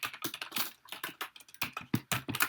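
Someone types on a computer keyboard, close up, in a quick irregular run of crisp key clacks with short pauses between bursts.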